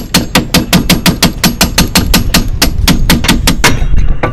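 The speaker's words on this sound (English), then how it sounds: "I'm just using an aluminum hammer, so I don't maul anything up" An aluminum hammer strikes a suspension part on a 2006 Volvo S40 during strut and control arm replacement. About twenty loud, sharp metallic blows land in a fast, steady rhythm, close and alone.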